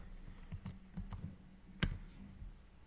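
A computer mouse clicks faintly and unevenly while working in a spreadsheet, with several soft clicks and one sharper click near the end.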